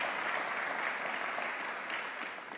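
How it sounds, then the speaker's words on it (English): An audience in a large facility applauding at a regional cabinet meeting, a dense, steady wash of clapping that holds throughout and fades slightly at the end. "Let's give them a big round of applause."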